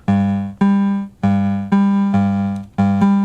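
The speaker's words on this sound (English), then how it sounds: "So we run the piano sound, and let me switch to the chorus input." Electric piano notes from a keyboard played through a 1985 Casio AS-20 amplifier sound one after another, each with a sharp attack and a slowly decaying tone, given a wavering, shimmering chorus character.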